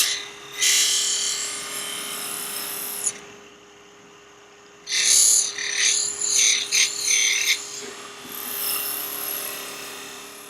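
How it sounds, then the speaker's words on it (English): A parting tool cuts end grain wood on a spinning lathe, giving a harsh, bright scraping rasp in bursts over a steady motor hum, with a quieter pause in between and fluttering cuts after. "this is another parting tool."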